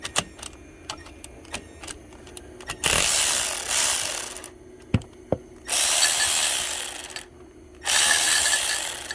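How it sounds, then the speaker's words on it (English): Working on an alternator, a cordless power ratchet whirs in several sustained bursts, separated by short clicks and knocks of tools against metal, close and fairly loud, with no talking. "This little cordless is just not strong enough to do that on its own."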